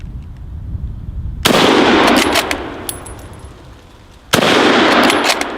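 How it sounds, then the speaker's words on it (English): An SMLE MkIII bolt-action rifle fires two sharp, loud shots a few seconds apart outdoors, each a sudden crack followed by a decaying boom, with a low background hum between them. "Take a couple more shots."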